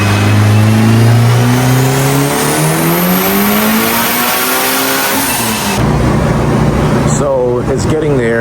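Mitsubishi Evo 9 with an FP Zero turbo, tuned toward 770 horsepower, revving hard under boost, a loud continuous rising engine note that climbs steadily, then drops and climbs again, no voices.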